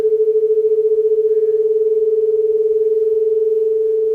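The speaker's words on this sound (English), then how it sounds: "So now we're hearing sort of the two tones plus a new pitch" Two close pure tones sound together and beat, a steady loud hum with a fast regular pulsing throb that combines into a new pitch, continuous and alone.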